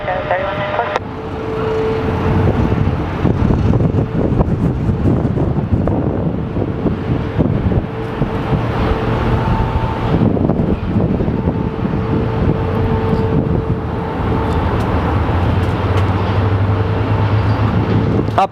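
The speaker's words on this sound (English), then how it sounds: "It is windy" Steady wind blowing across an outdoor plane-spotting spot at Sky Harbor Airport, a continuous loud rushing roar with gusty buffeting against the microphone and a low rumble underneath throughout.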